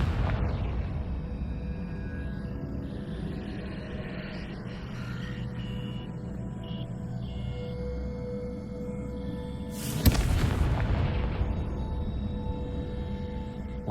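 A single sudden blast from the Confringo spell in Hogwarts Legacy erupts late in the clip, loud and broadband, over a steady low in-game ambient drone.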